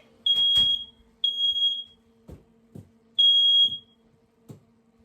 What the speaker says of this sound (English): Oh, hold on. Smoke detector.